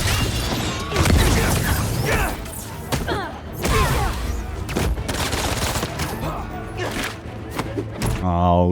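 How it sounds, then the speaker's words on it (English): Enemies fire guns in dense, continuous bursts during a fight in the video game Spider-Man 2, mixed with thuds and impacts. The gunfire is loud and close, and someone talks over it. "I'll get rid of you since you're shooting guns at me"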